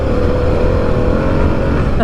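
A Harley-Davidson Pan America motorcycle runs on a Colorado dirt road as the back tire spins up, a loud, close engine roar with a rough, churning texture that holds steady for a couple of seconds.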